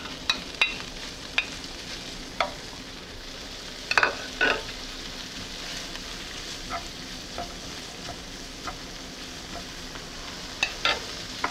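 Bacon fries in melted fat in a pot with a soft, even hiss, while scattered sharp clinks and scrapes from a utensil land now and then, clustered near the middle and the end; no talking.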